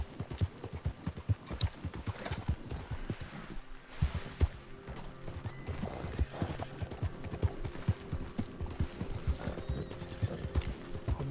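Horse hooves clip-clopping at a steady galloping rhythm in the video game Red Dead Redemption 2 online, with faint game ambience, a brief whinny-like rise and a crash in the middle.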